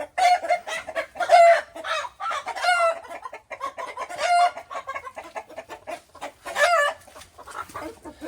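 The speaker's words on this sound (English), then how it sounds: "He's a good rooster" Chickens cluck repeatedly and close by, with a rooster's louder calls rising above the flock in several bursts.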